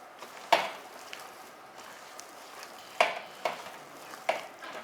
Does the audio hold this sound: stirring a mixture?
yes